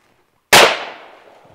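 A rifle shot fired in an Assam Rifles firing drill, one sudden loud close crack after a moment of silence, then a short decaying echo.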